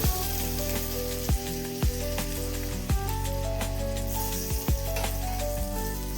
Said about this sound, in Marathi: त्यामध्ये टाकून घ्यायचं गरम तेल.